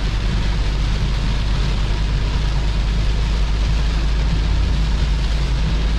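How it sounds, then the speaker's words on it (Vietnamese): Heavy rain drums on a car driving along a national highway in Vietnam's Mekong Delta region, a dense, steady roar of water and road noise that holds unbroken throughout with no talking. "Mưa rất là lớn các bạn."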